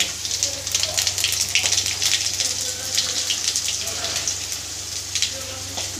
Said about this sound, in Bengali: তেল দিয়ে দিয়েছি, গরম হয়ে গেছে। দিয়ে দেবো শুকনো লঙ্কা, আর দেবো গোটা জিরে, একটা তেজপাতা।